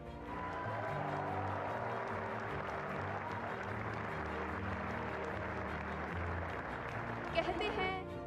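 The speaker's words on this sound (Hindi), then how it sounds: "ये तालियां आपके जोश और गर्व का प्रतीक है" Audience applause at a ceremony at Bharat Mandapam, steady sustained clapping filling the whole clip at a moderate distance, with a few louder claps near the end.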